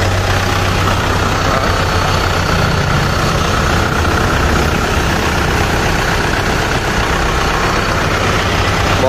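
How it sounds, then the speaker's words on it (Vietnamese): A Kubota M6040SU tractor engine idles with the hood raised, a loud, close, continuous low diesel rumble with an even mechanical clatter and no pauses. "Để em quay rõ cho anh em xem động cơ đây"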